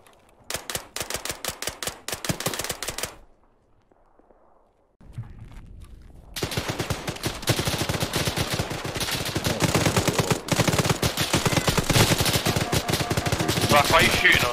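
Teammates in Arma 3 fire bursts of rapid gunfire, a string of sharp reports that breaks off into a near-silent gap. Heavier, denser automatic fire then resumes and keeps going, with occasional voices under it.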